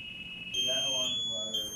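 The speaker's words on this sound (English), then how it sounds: "I come down now to my low air alarm mark" An MSA G1 breathing apparatus low-air alarm gives a steady, piercing electronic tone, joined midway by a second high whistle, while a voice talks underneath.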